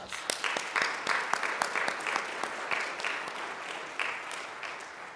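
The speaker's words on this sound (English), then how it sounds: "Let's give all of our participants a big round of applause." An audience at a district English spelling bee applauds the participants, sharp individual claps standing out over a continuous wash of clapping at moderate distance throughout.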